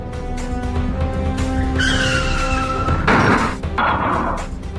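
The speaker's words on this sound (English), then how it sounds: "Hit the brakes." A car brakes hard in the stop-motion Transformers Affinity film, its tires screeching and skidding in long squeals over engine noise, with a louder burst of friction near the end.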